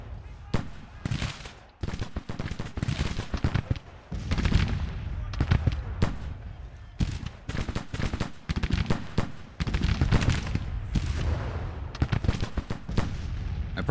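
Cannon fire from Civil War artillery batteries in Grand Tactician, a run of loud booming blasts and crackling volleys repeating irregularly across the whole stretch, dense and layered like a battle in progress.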